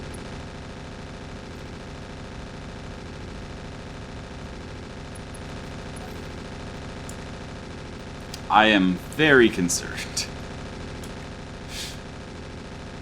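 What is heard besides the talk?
mech weapon fire in a BattleTech video game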